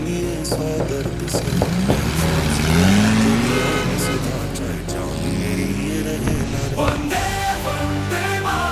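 A car engine runs and revs as the vehicle pulls away, a loud, continuous drone with a rising pitch sweep partway through, under music and background noise.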